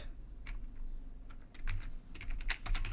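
Quick bursts of typing on a computer keyboard, close and fairly quiet, with irregular clusters of key clicks and brief pauses between them.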